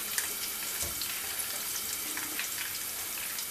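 Tempering for a spicy Telangana tomato chutney sizzles steadily in a pan, a continuous close crackle and hiss with faint pops, heard alone without talk.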